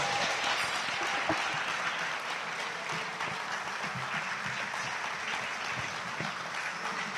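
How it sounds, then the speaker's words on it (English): A standing audience applauds at an inaugural lecture by a professor, steady dense clapping filling the hall for several seconds with a faint crowd murmur beneath. "Can we please all stand and give him a round of applause?"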